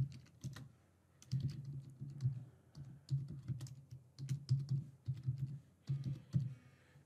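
Keys clatter on a computer keyboard as form fields are filled in on a website. Quick, close, uneven bursts of tapping run with brief pauses between them.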